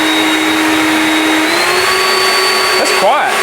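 A Ryobi 36V cordless vacuum cleaner running loud and close, its steady whine stepping up in pitch as it switches to turbo mode, with a brief warbling at the end as a voice speaks over it.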